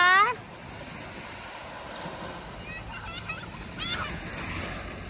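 Ocean waves wash onto the sandy beach at Cha-am in a soft, continuous surf with wind noise, while a few voices are heard briefly.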